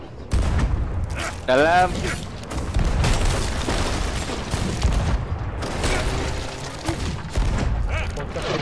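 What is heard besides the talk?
gunfire in a video game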